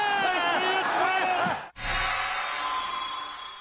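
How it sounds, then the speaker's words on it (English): A stadium crowd at an NFL game roars and cheers as a Patriots field goal kick goes up, loud and sustained, cut off briefly, then a quieter crowd murmur follows. "The crowd will tell you whether he makes it or not."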